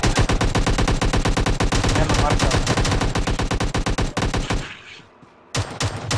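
Rapid, loud automatic gunfire rattles continuously, pauses briefly, then resumes with a short burst; a voice speaks briefly over it.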